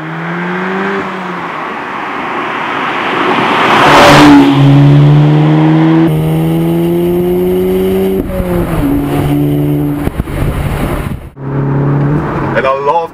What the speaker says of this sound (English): And I love the sound of this car.